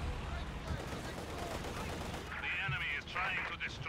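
Machine gun fire and battle noise rumble through the Company of Heroes 2 video game, with bursts under a continuous din and a voice talking over it.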